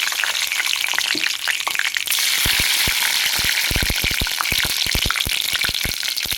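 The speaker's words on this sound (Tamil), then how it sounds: "இப்போ வந்து கடுகு போடுவேன்" Mustard seeds crackle and pop sharply in hot sesame oil, a rapid burst of irregular snaps over a steady sizzle.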